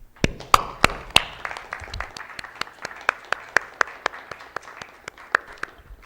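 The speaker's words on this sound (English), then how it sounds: "you all deserve a round of applause" At a high school board of education meeting, sharp individual claps ring out, with a few very close, loud ones standing out over a thin, scattered patter of audience applause in a quiet room.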